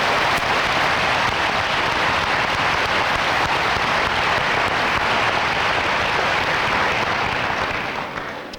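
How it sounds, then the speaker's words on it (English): An audience applauds at a 2000 graduation ceremony, a dense, loud and continuous roar of clapping that holds steady for several seconds before tapering slightly at the end. "Let's give them a round of applause,"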